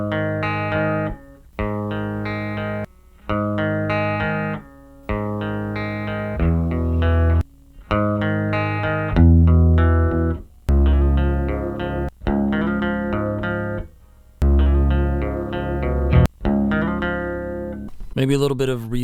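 Distorted electric guitar through impulse response tones modeled on an album's guitar sound, playing a series of chords and notes, each burst separated by short pauses, loud and up front with a heavy, saturated tone.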